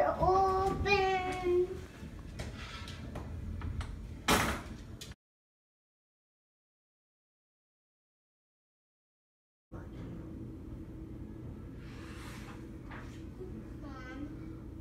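A house door is opened during a thunderstorm, giving a short, sharp knock-like thud amid family chatter and a voice, before the sound cuts out to silence and the talk resumes.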